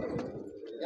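Pet pigeons coo softly in a brief burst of low, throaty notes close by, with a voice speaking over them.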